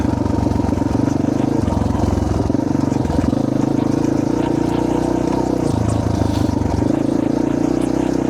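A Honda 400 XR motorcycle engine runs steadily close by under engine braking, its note wavering and dropping as the revs fall off, with faint voices in the background.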